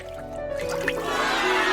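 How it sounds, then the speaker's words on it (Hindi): Water drips and trickles into a small toy bathtub in a handmade dollhouse, close wet splashes over a steady background tone, with no talking. "वाह, पानी।"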